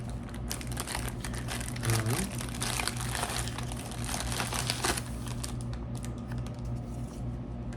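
MRE plastic packaging of chicken and noodles being pulled apart, dense crinkling and crackling with scattered sharp ticks, close and continuous, fading toward the end, with soft-spoken talk briefly in the background.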